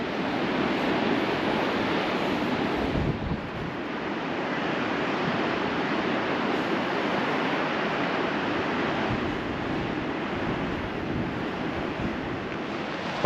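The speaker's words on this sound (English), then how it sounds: "Bit calmer down here in the bay. Big waves." Ocean waves roll into a bay near the Giant's Causeway in Northern Ireland, a continuous dense wash of surf and wind that stays loud and steady throughout, with no one speaking.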